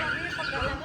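A horse whinnies on a street in Vigan, close and loud, with hoof clatter and people talking over it.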